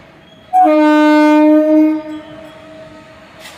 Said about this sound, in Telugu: Goods train.